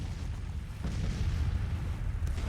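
Artillery fire rolls through a Civil War battle in the strategy game Grand Tactician: The Civil War, heard as a continuous, distant low rumble of cannon with faint muffled booms layered underneath.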